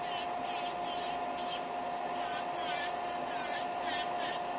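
An electric nail drill fitted with a ceramic bit grinds off acrylic nails, giving a steady high whine with bursts of gritty buffing as the bit touches and lifts away, close and fairly quiet.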